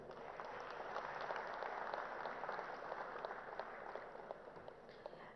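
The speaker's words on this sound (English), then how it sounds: "One round of applause, please" A room full of people at an awards ceremony applauds steadily, a dense patter of claps held at an even level, heard faintly from a distance.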